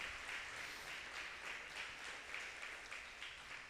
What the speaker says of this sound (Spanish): Demos un aplauso al Señor por su gracia, por su bendición.